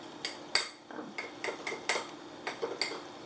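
Bath bomb mixture stirred in a bowl while drops of food coloring go in, giving a series of light clinking, scraping taps at a steady, uneven rhythm, close and fairly quiet with no talking.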